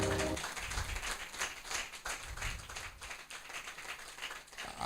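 Audience at a training session claps steadily, a dense patter of hand claps lasting several seconds at moderate distance, with no talk over it.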